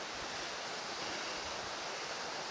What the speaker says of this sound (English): there's another good size little waterfall just came across